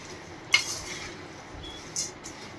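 Garlic sev mamra is stirred in a pan with the gas switched off. There are two light metallic clinks of a spoon against the pan and a soft, dry rustle of the crisp mixture. The scraping is brief and close, and no one speaks.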